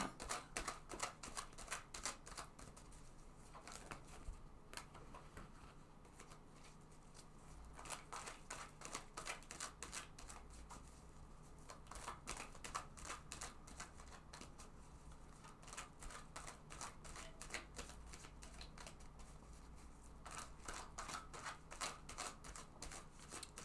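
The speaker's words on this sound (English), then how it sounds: "let's shuffle this deck." A deck of tarot cards being shuffled repeatedly, rapid crisp riffling bursts and flicks close up, continuing in waves with short pauses.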